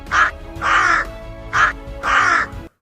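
A crow caws four times in a steady pattern, short and long calls alternating, loud and close with nothing else heard.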